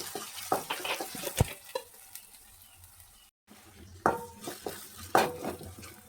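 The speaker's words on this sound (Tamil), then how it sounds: "இது மிதமான தீயில் வச்சு வதக்கிங்க." Chopped tomato and beans sauté over a medium flame for rava kichadi, with a soft sizzle under scraping spatula strokes and metallic pan clinks, briefly pausing midway.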